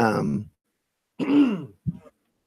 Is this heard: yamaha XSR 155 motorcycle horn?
no